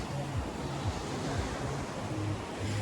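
Surf washing onto the beach at Chaweng, Koh Samui, a steady broad wash of waves with some wind noise and no distinct breaks, heard on its own.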